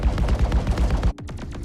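Loud close turret fire in a video game rattles off as a rapid, dense stream of heavy shots for about a second. It then cuts off, and a few separate echoing reports trail away afterward.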